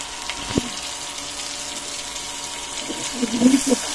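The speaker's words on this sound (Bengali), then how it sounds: "এদিকে মোটরও সারা পানি উঠতেছে" Electric motor pumping water indoors, a steady low running hum and water flow throughout, with a sharp knock early on and some clattering splashes near the end.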